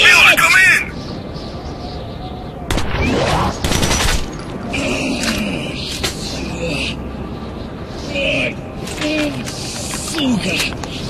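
Bursts of gunfire in the Metro video game crackle loudly in the opening second and again around the third and fourth seconds, with shouting voices and scattered clatter filling the gaps.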